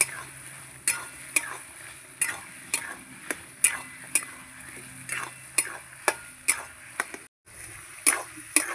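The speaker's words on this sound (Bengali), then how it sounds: "কিছু সময় ধরে আমি মশলার সঙ্গে আলুগুলো কষাবো" Potatoes sauté with spices in a pan, a low sizzle under regular sharp scrapes and taps of a spatula against the metal, a brisk repeated rhythm heard close with a brief pause near the end and no speech.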